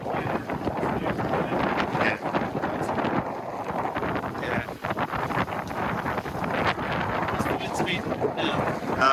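Steady, loud wind buffeting the microphone aboard a sailboat beating upwind off Tasmania in about 13 knots, with water rush and hull noise underneath throughout and no clear talk.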